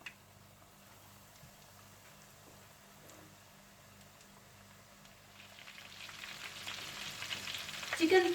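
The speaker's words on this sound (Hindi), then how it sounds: "मैदे में कोट करने के बाद आप तेल गरम कर लीजिएगा और इसे हल्की आंच पर रखकर गोल्डन ब्राउन कर लीजिएगा।" Flour-coated chicken drumsticks fry gently in hot oil over low heat, a soft steady sizzle that swells louder toward the end, with no voices.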